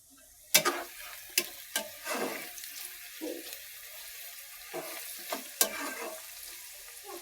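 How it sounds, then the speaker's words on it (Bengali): Onions frying in a pan while chicken curry is being cooked: a soft background sizzle punctuated by several sharp spatula scrapes and clicks of stirring, close by and without talk. "পেঁয়াজটা এখন আমি এক করে ভাজা ভাজা করে নেব"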